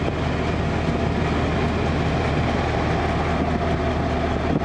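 The heater blower fan of a Buick car runs as a steady, loud broadband whoosh of rushing air that holds level throughout, with no talking.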